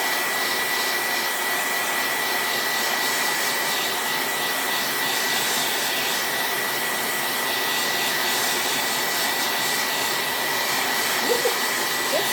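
Hair dryer blowing on a towel to dry freshly applied ink, a steady loud whooshing roar with a faint whine, running continuously close to the microphone.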